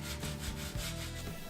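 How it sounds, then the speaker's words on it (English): Pallet wood cladding on a staircase is sanded with a power sander. The rough rubbing is close, continuous and steady, with a faint whine running under it. "The only downside with using wood is there's lots of sanding"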